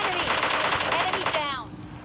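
Rapid automatic gunfire sprays in PUBG, a dense burst of fast repeated shots that fades out at the end, with some talking underneath.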